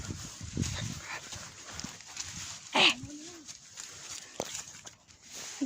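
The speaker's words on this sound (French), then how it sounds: "Des chiens." Dogs bark in the distance amid ambient outdoor noise, with one louder bark or yelp standing out briefly near the middle.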